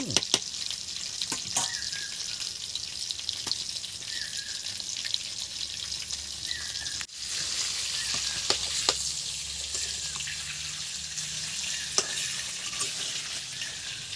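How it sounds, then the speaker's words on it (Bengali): Potatoes fry in oil left from cooking a large fish, crackling and sizzling steadily with stirring scrapes and a few drips, with no one speaking. "মাছের তেলে আলু ভাজা, মাছের তেলে আলু ভাজলে হ্যাঁ ভালো টেস্ট হবে বন্ধুরা।"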